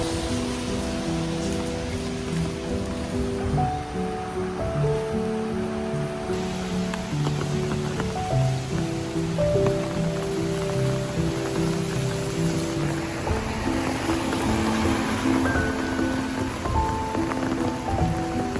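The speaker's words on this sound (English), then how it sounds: "I think Shanghai is so beautiful in the rain." Steady rain falls on city surfaces in Shanghai in spring, a dense continuous patter with drops spattering nearby and a low rumble of distant traffic underneath.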